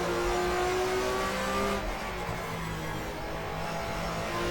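A touring car engine in the GTR2 racing game at the Nurburgring, 1994 German Touring Car Cup, droning steadily with a shifting pitch as it runs through the gears, loud and continuous with no voices.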